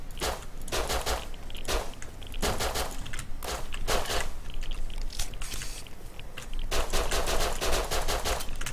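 Gunfire in the video game Rust: rapid automatic bursts and single shots crackle almost nonstop, loud and close, with brief gaps between volleys.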